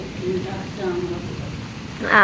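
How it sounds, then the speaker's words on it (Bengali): Steady light rain patters in the background while a person speaks over it in Bengali. "হালকা মাঝারি হালকা হালকা করে বৃষ্টি পড়ছে"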